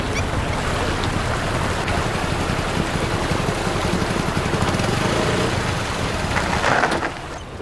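A motorbike engine runs steadily and close by for several seconds, a continuous rumbling drone that eases off slightly at the very end as the bike slows.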